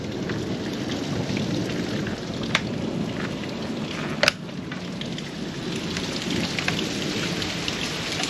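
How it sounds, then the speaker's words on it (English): Steady heavy rain falls on a surface, close and constant, with a couple of sharp cracks and faint thunder rolling underneath; no voices. "Thunder roll out there."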